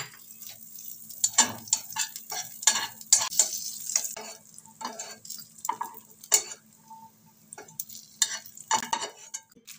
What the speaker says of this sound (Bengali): প্রথমে কাজু বাদামগুলোকে ভেজে তুলে নেব ঘিয়ের মধ্যে থেকে